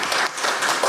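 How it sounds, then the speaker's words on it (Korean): Applause welcoming Professor Kim Do-soon, chair of a National Assembly debate on public AI adoption, fills a brief moment as a steady hall of clapping. "김도순 교수님을 큰 박수로 맞이해 주시기 바랍니다"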